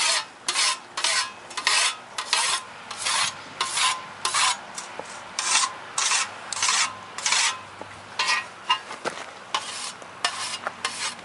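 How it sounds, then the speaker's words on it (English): A whetstone is drawn along the freshly peened edge of a scythe blade mounted on its snath, about twenty quick rasping strokes in a steady, uneven rhythm, close and crisp with short gaps between. "I dress it by pulling it away from that sharp edge like this"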